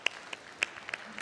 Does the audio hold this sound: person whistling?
no